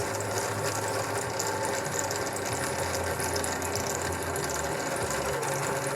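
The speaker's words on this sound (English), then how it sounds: "now I'm gonna drill my handle scale" A drill boring into a maple knife handle scale, with a steady, continuous mechanical whir and grind that holds at an even level throughout.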